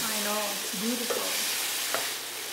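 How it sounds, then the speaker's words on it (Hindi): Tomatoes fry in a pan with ginger and green chili, giving a steady sizzle with a few brief stirring scrapes and clinks close up. "टमाटर भूनते जा रहे हैं।"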